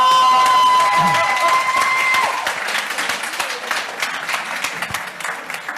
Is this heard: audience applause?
yes